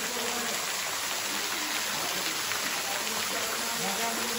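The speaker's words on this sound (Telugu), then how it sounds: "సో ఈ విధంగా వాటర్ పడుతూ ఉంటుంది." Water falling at Garden of Caves in Meghalaya, a steady rushing hiss of a small waterfall, constant and fairly faint, no talk.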